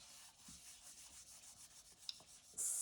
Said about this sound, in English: So I'm going to rub this out.